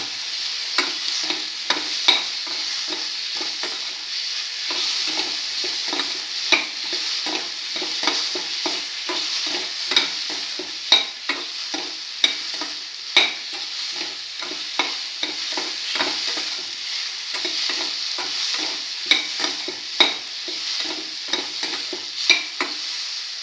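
Beef liver and tomato pieces are stirred in a hot frying pan, a steady bright sizzle broken by repeated scraping clicks of the utensil against the pan, close and continuous with no talking.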